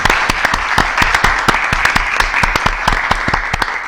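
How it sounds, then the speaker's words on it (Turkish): Council members applaud in a meeting chamber, sharp distinct claps from a smallish group, close and fairly loud, a brisk irregular patter lasting a few seconds with no speech. "Çakır maddeyi oy birliğiyle kabul eden meclis üyelerine alkışlarıyla teşekkür etti."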